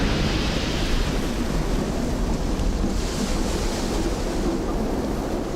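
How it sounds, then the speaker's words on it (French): Huge ocean waves about 10 metres high crash onto an inhabited coast, producing a dense, continuous roar of surf and rushing water with wind, loud and unbroken throughout. "créant une série de vagues de 10 mètres de haut"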